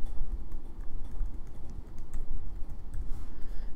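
Keys clatter steadily as a password is typed on a computer keyboard, a dense run of close, quick clicks with no talking.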